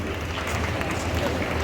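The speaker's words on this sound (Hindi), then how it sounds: "तालियों से स्वागत करते हैं।" Guests are welcomed at a closing ceremony with steady crowd applause, a dense even wash of clapping holding for the whole short stretch with some voices mixed in.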